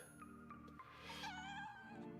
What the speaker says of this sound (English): Love that cat. I love the cats.